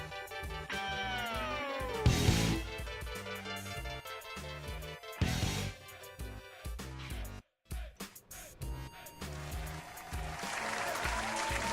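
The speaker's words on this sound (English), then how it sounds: "I added a little clapping sound effect to give the illusion that we have a live in studio audience" Canned studio-audience clapping effect, bursts of applause rising and falling over a music bed with a brief dropout near the middle, moderately loud and continuous.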